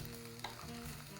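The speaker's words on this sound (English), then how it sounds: "Oh, it's sizzling from the pan." Korean dolsot bibimbap sizzles and crackles in a hot stone pot, a soft, steady frying hiss heard up close with one small pop.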